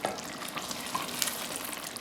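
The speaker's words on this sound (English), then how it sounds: "Once they firm up a bit, we can gently stir them." Achari koftas are stirred gently in a pan of simmering, sizzling sauce, giving a steady bubbling hiss with soft scraping touches from the spoon, close up and with no voices.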